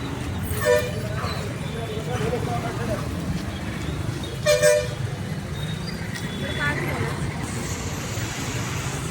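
Vehicle horns toot a few times, short blasts over steady road traffic noise, with voices talking nearby.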